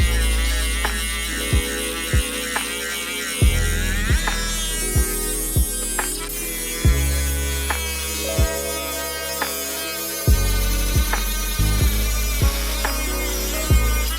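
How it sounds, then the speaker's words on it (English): Ryobi 18V cordless rotary tool (PBLRT01K1) cutting through a fake wood product, a steady loud high-pitched whine with pitch dips and sharp ticks as the bit bites, running continuously without talk. "Now we're going to cut through this fake wood product."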